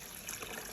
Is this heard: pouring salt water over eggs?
yes